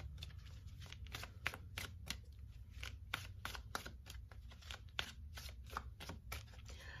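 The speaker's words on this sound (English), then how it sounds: "let's get a few of the Law of Attraction manifestation cards" Law of Attraction manifestation cards shuffled and handled by hand, a quick run of crisp riffling flicks and soft slaps, close and quiet with no talking.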